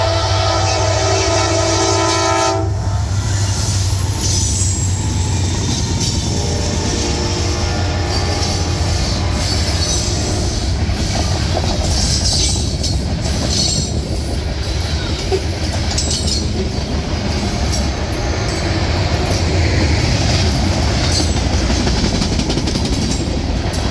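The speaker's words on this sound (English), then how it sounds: "The next day, a not so exciting 16R came up, the typical SD60E and 2 -9s." A freight train hauled by an SD60E and two Dash 9 locomotives rolls past close by, a loud continuous roar of wheels and cars with a squeal and a horn-like tone early on, steady throughout.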